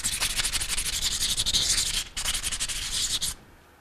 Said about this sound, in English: we're going to take some emery cloth, and we're going to put it over the finger. We're going to scuff up the inside of the shaft.